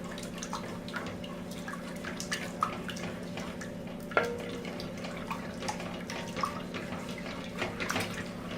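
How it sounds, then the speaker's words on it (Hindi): Water in a pot bubbles at a steady boil, a continuous low rumble with small pops and crackles throughout. "देखिए पानी में उबाल आ चुका है।"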